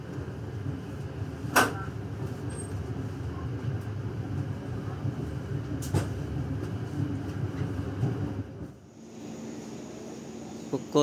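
The Kahuripan economy passenger train rumbles steadily along the tracks between Kebumen and Kutoarjo stations in Indonesia, with a constant low roar and a couple of sharp clanks, then the noise drops and changes tone.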